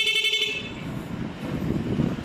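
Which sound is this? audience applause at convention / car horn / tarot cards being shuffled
car horn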